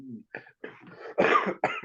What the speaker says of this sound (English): got a bit of a cough here